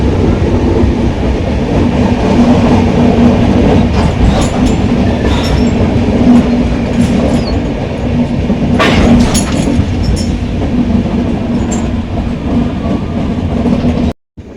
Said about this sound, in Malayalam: train Jalandhar cantonment junction railway സ്റ്റേഷനിലേക്ക് എത്തിക്കൊണ്ടിരിക്കുകയാണ്